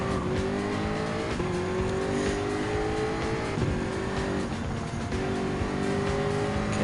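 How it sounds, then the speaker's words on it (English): Race cars roar around Brands Hatch in Gran Turismo 7, including a 2016 Porsche Cayman GT4 Clubsport and a Lamborghini Huracan. Loud, continuous engine drone rises in pitch and drops at repeated gear shifts, with no break throughout. "Coming in and catches up to Sugawara on the Porsche Cayman GT4 Club Sport 2016"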